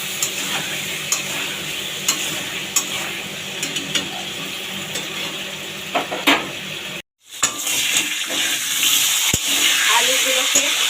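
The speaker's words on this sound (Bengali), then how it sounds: "নেড়ে ছেড়ে আলুগুলোকে ঢাকা দিয়ে দিয়ে ভালো করে ভেজে নেব।" Potatoes salted and frying in a covered pan, sizzling steadily with scattered stirring clicks and scrapes, a brief dropout midway before the crackle resumes brighter and busier.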